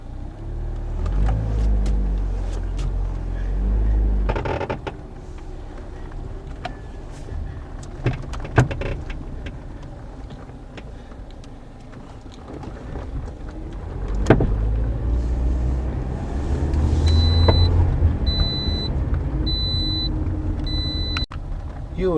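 A worn front strut on a Toyota Corolla Matrix gives occasional clunks and rattles beneath the steady rumble of the car driving, with a few sharper knocks standing out; no one talks.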